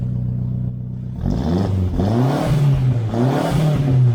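A widebody VW Scirocco MK1 idles low, then its engine revs in repeated rising and falling surges through a single muffler, a deep, close, moderately loud exhaust note.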